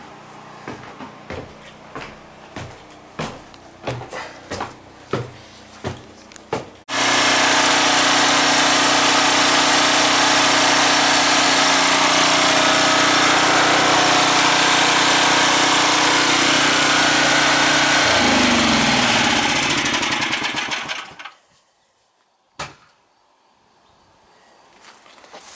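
A 7500-watt gas portable generator, temporarily wired to power a whole house, starts with a few sharp knocks and then roars steadily and loudly up close before shutting down and winding to silence.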